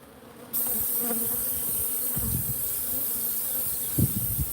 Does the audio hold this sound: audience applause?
no